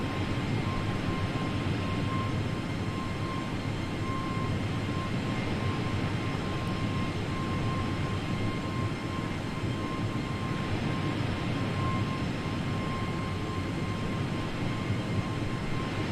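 An airliner's engines drone steadily as it climbs through flight level 280 in Microsoft Flight Simulator, a constant, even cabin-style roar with no talk.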